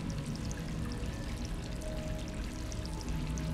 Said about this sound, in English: You're trying to fill it with water.